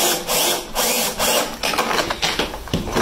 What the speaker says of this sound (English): Push down hard and put the drill in high speed and just let it run.